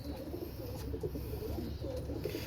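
A Rampuri pigeon coos softly and steadily at close range, a low murmuring call against a constant background hiss with no talk.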